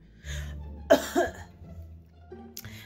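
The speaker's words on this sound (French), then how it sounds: "Je vais tousser." A person coughs indoors: two or three close, fairly soft coughs in quick succession, followed by a brief faint throat sound over a low background hum.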